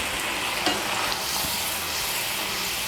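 Kasuri methi stirred into an egg curry frying in a pan, giving a continuous hissing sizzle with soft scraping strokes of the spoon, close and steady, no voices.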